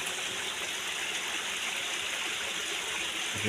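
A waterfall pouring in a natural setting, a dense, steady rushing roar of falling water that holds constant throughout, close and full with no other sounds.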